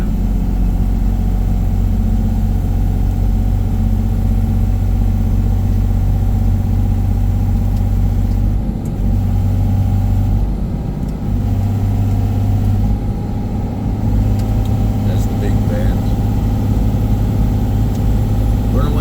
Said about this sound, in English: Engine still doing all the work, keeping the truck in a good slow speed.